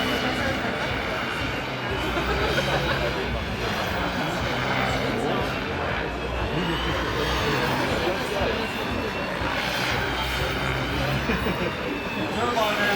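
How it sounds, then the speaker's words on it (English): Miniature Aircraft X-Cell turbine RC helicopter flying 3D aerobatics with a 7-horsepower twin-shaft turbine and composite blades, a loud continuous whine and rotor roar that swells and fades as it manoeuvres, with a voice talking over it. "The turbine has 7 horsepower. Has a twin shaft engine, and this one's flying with extra composite blades."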